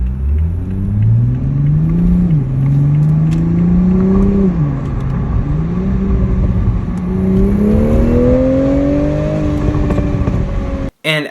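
A Toyota Supra sports car engine pulls hard and loud, pitch climbing through gear changes with brief dips between, a steady accelerating roar close by.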